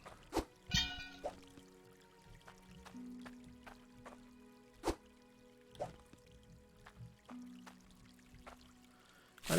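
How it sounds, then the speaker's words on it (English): Water pours into a washing pan in the Hydroneer video game, a splashy liquid stream with scattered drips and small plops heard clearly with no talking. "You just put your water in, wash it off, and"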